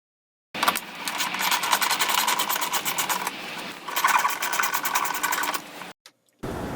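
Fasteners being backed out of the front air intake on a B7 Audi RS4, a steady whirring buzz like a power driver running continuously for several seconds, close and fairly loud, with a brief pause near the end.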